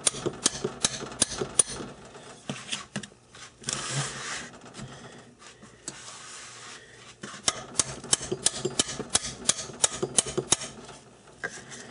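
A part being hammered into the gearbox of a South Bend 9-inch lathe, heard as a long run of sharp metallic taps and knocks at an uneven rhythm, close and alone.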